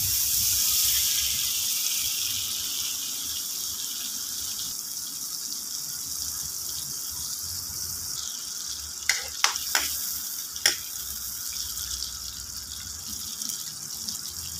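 Butter sizzling in a hot pan ahead of seafood such as corn, shrimp, crab and mussels, a steady close hiss that fades slightly, with a few sharp clinks near the end.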